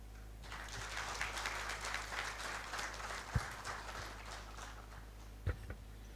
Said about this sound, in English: Let's give it another round of applause to the Director General.